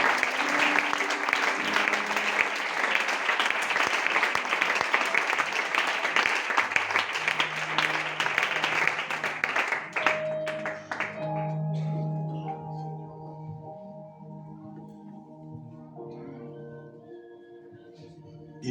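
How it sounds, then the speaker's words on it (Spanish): Church congregation in a Spanish-language service giving strong applause for about ten seconds, which then fades as a soft musical background continues. "Denle un fuerte aplauso al Señor."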